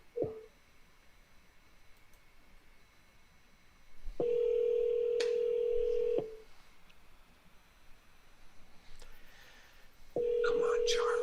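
An outgoing phone call rings back with long, steady tones, each lasting about two seconds. A pause separates them, and faint background noise and a few clicks sit between the rings.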